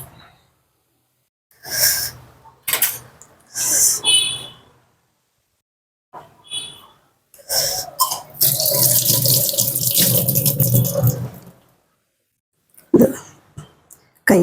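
Running tap water in a home kitchen, used for washing hands while making Kerala-style ulli pachadi: several short splashy bursts, then a steady gush of a few seconds that stops, followed by a couple of brief splashes.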